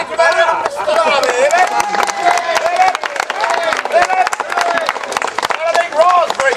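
Outdoor crowd at an Old Sydney Town street theatre show in Somersby, cheering loudly together in bursts with shouts and scattered claps, voices rising and falling over steady babble throughout.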